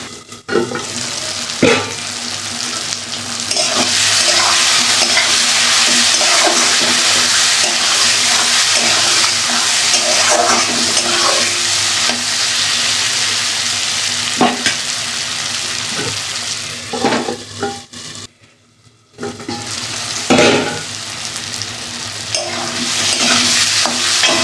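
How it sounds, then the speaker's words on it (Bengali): A spice paste (masala) fries and is stirred in a pan, a steady loud sizzle with repeated clanks and scrapes of the spoon, a brief near-silent pause, then frying and stirring resume. "মশলাটা তো আমার ভালোভাবে কষানো হয়ে গেছে।"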